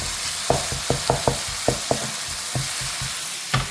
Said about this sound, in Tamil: தக்காளி வதங்கிக்கிட்டே இருக்கு